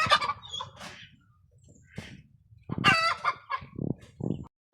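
Chickens in a coop, among them a black hen that has just laid an egg, clucking and crowing in several close bursts, with brief pauses between calls.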